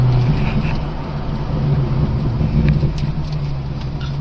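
A Chevrolet Corvette C6 Z06 engine pulls hard under steady acceleration, a loud, continuous low drone heard from inside the car with no gaps.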